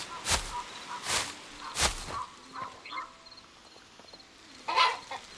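Chickens cluck and squawk in the video game Hytale, several loud, sharp bursts near the start and another around the end, with quieter clucks and faint chirps in the gaps.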